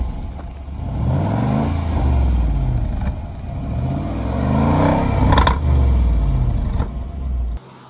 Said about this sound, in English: the exhaust, in my humble opinion, sounds very much like a Jaguar as well